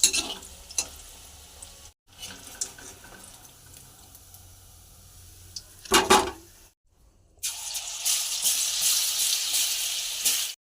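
Boiled potatoes fry with salt and spice powder in a hot pan, giving a bright sizzle that comes in bursts with brief silences and stirring, and ends in a loud steady sizzle.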